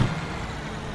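A steady low engine rumble from an International truck in American Truck Simulator, likely the Lone Star, heard from the cab, moderate and even throughout with no talk.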